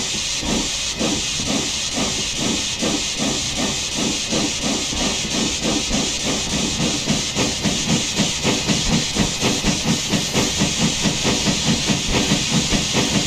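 An LNER K1 2-6-0 steam locomotive in Train Simulator, loud continuous steam hiss overlaid with a steady rhythmic chuffing that quickens and grows more pronounced as it pulls away, no talking.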